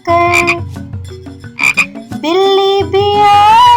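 Croaking frog calls in a children's nursery rhyme, loud and close, with repeated throaty croaks and ribbits of varying pitch set over a musical backing.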